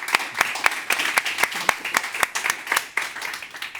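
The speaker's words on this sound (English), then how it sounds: "I think they deserve the round of applause." Applause for panelists at a media discussion event, a smaller audience clapping with distinct, sharp individual claps standing out over a moderate, uneven patter.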